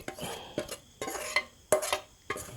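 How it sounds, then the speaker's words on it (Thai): A utensil scoops Isan-style pork larb with toasted rice into a bowl in five close, distinct scrape-and-clink strokes spaced about half a second apart, with no talking. "เสร็จแล้วก็ตักใส่ถ้วย"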